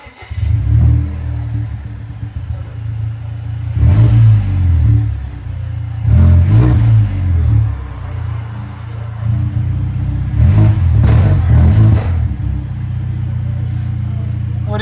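A 2019 Volvo S60 T6 with a 2.0L turbo engine, its muffler cut off, rumbles loudly at idle and breaks into several sharp revs with brief raspy bursts; a voice talks faintly under the engine.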